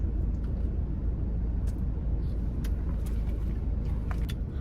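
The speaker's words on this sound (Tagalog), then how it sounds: "Traffic kasi guys, super traffic, no?" Road traffic crawling in a heavy jam fills the scene with a steady, close, low engine rumble and a constant broad hiss, with a few faint higher ticks scattered through it.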